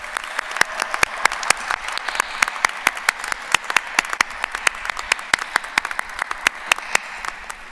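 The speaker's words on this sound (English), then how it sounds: "please join me in offering a round warm of applause to the families, friends, and supporters of our graduates" A graduation commencement audience applauds families and supporters, with sharp individual claps standing out over a broad crowd wash in a fairly steady rhythm. The clapping is close and fills the entire stretch.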